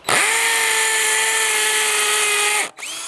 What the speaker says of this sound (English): Here's hammer drill.